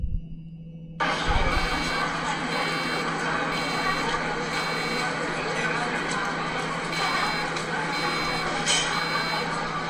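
A noise detector's buzzer switches on after about a second and sounds steadily, close and loud, with a sustained electronic tone and repeating beeps.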